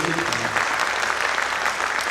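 An audience at a ceremonial gathering claps together, a dense and steady burst of many hands close by, continuous for the whole short stretch.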